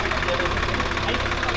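Swaraj 855FE or 744XT tractor engine running while pulling a nine-tine spring cultivator through stony ground, a steady rumbling diesel drone held close and constant, with a voice talking over it.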